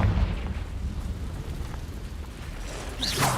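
Confringo explosion spell going off in Hogwarts Legacy, a heavy rumbling blast with deep low boom that rolls on steadily, then a brighter burst and swelling roar near the end, loud and close with no voices.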